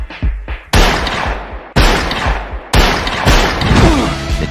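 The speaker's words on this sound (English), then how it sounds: "I wanna die in a gunfight." Gunfire in a gunfight from a movie trailer: several loud, sharp bursts of shots with booming impacts in quick succession, each followed by a short decaying tail.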